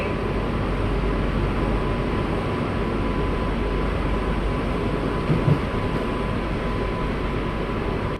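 An air-conditioned passenger train rolls steadily toward Guindy railway station, a loud continuous rumble with a faint steady whine above it and a brief thump near the end.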